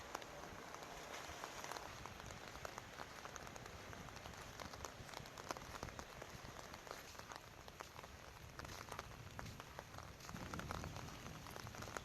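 Light morning rain patters steadily on surfaces at Bang Saen beach, Thailand, a soft, even, continuous hiss of drops with no voices.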